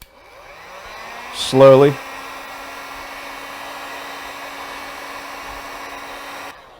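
A hot air tool blows steadily to heat a guitar humbucker pickup cover and wax, a constant airy hiss with a tonal hum, joined briefly by a short spoken word near the start.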